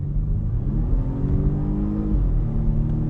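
Volvo S60 T8 plug-in hybrid R-Design accelerating from inside the cabin, a loud, steady engine hum climbing smoothly in pitch with a low road rumble beneath, and no talk.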